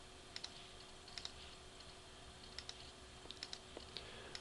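Faint, quick button clicks on a TI-84+ graphing calculator keypad as a function is entered, in small irregular clusters of two or three presses over a steady low room hum.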